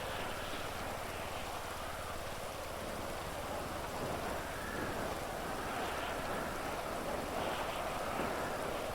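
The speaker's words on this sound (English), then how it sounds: "Is this rain gonna get worse?" Steady in-game rainfall in GTA V, a constant hissing downpour with a low rumbling undertone that holds even and unbroken throughout, with no talk over it.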